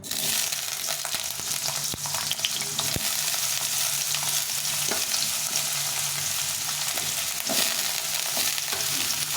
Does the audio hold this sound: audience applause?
no